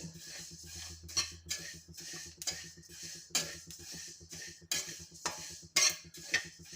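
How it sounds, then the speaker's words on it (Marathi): Sesame seeds roasting in a hot, dry pan for til-gul laddoos, stirred with a spoon that scrapes and clinks against the metal in repeated strokes over a soft, steady background. "कडे छान तापलेली आहे तिळही छान भाजल्या जात आहे"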